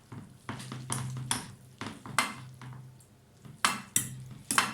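Noodles being stirred in a pot with sauce poured in, giving repeated close scraping and clinking bursts of utensil against cookware in an uneven rhythm, with a low steady hum underneath.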